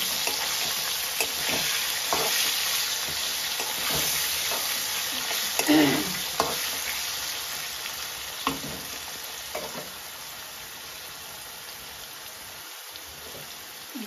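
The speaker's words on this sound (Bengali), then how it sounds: "আলুটা ভাজা হইব, তারপরে আমি কারকুলটা ছাড়ব" Salted, turmeric-dusted potatoes fry in a pan with a steady, close crackling sizzle, broken by occasional scrapes and taps of stirring, and no talk.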